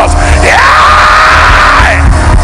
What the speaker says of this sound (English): Come on, shout it like your voice is yours.